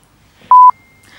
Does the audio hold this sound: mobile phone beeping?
yes